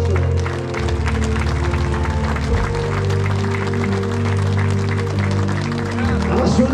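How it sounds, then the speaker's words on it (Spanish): A congregation claps together at an outdoor evangelical service in Plaza Tauripampa, the steady rhythm of many hands carried over sustained, droning music for the full stretch. "dale fuertes palmas al Señor"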